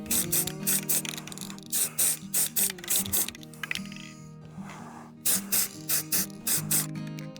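Spray can bursts coating a Warhammer miniature in John Deere green over a white zenithal primer, several short hissing sprays in a rhythmic series with brief pauses, close and fairly loud, with background music underneath.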